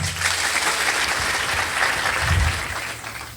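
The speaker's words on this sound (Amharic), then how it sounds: "አጨብጭቡ ለጌታ" A church audience claps for the Lord in steady, dense applause, loud and continuous throughout with a slight swell near the end.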